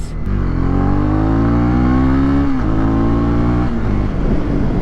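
A close, loud 2020 Honda CB300R motorcycle engine revs steadily upward in pitch, dips briefly, then climbs again, a throaty roar with no talking.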